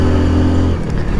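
A car's engine strains loudly and close on a mountain road to Badrinath as the driver tries to overtake, a steady low roar that shifts in pitch partway through.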